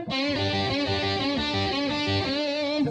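A distorted electric guitar plays a gritty blues pentatonic lick with bent notes, loud and sustained for about three seconds without any voices.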